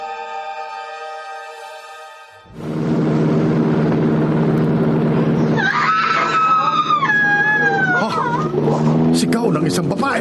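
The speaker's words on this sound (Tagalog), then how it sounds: "Sigaw ng isang babae." A woman screams, loud and wavering with rising and falling pitch, over a steady engine-like rumble, as heard in a Filipino aswang horror drama.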